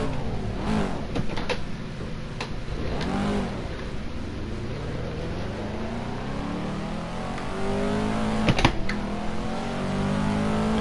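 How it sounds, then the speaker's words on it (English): In the Assetto Corsa racing game, a Ferrari on street tires has its engine revving up and down in sweeping cycles, a moderately loud, steady drone with repeated pitch climbs and drops. "That's a nice sound, actually, that Ferrari."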